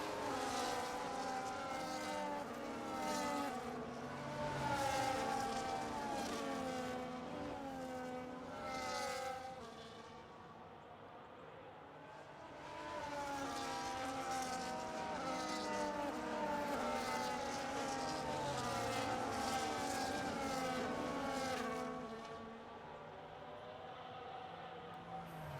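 Race car engines roaring and droning with shifting pitch as cars pass at a distance on a track in Australia, rising and falling in waves, easing briefly midway before building again.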